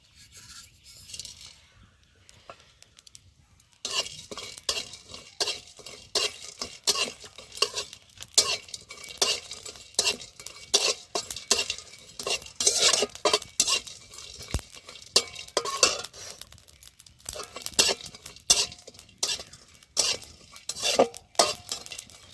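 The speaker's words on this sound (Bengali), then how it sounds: "গরম মশলা জিরে মরিচটা ভাজা হয়ে গেছে" Cumin, chilli and whole garam masala spices frying in a pan, near silence at first, then a dense run of clinking and scraping stirring strokes against the metal over a light sizzle, steady and close; no voices.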